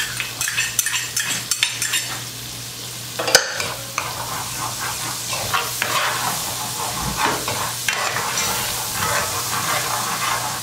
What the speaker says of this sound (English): So now at this point, I'm going to add 1/2 a head of fresh garlic.